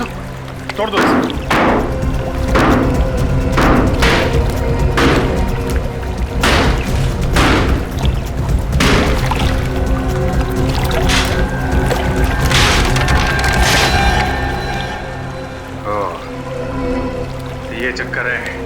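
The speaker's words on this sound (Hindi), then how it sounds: "खोदो, तोड़ दो इसे।" A water tank being broken open: a rapid series of loud thumping blows and splashing water, close and busy, with voices shouting over the impacts before they thin out near the end.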